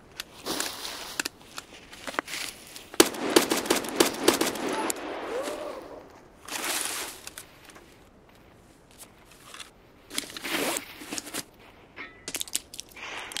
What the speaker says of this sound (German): Oh, schallgedämpfter Schuss voraus, Richtung Skeleton.